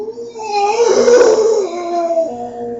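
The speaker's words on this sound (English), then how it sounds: "like howl in the woods" A single long, mournful werewolf howl rises and wavers for a couple of seconds, close and loud, then tapers off.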